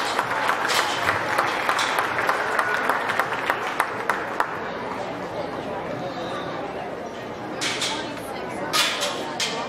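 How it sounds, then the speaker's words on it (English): Crowd applause at a county fair swine show after a Duroc barrow class, steady dense clapping lasting about ten seconds with a few louder bursts and faint chatter mixed in. "Congratulate him with a nice round of applause."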